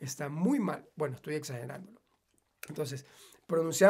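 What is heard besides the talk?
No everyday noises stand out.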